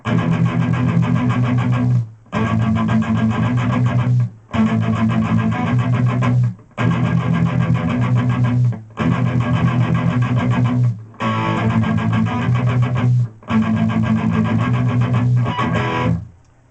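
Distorted electric guitar plays the verse of a song with palm-muted alternate picking, a tight chugging rhythm in repeated two-second phrases separated by brief silent breaks, loud and alone.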